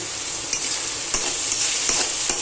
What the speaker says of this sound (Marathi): आणि आता इकडे कांदा फ्राय व्हायला ठेवलेला आहे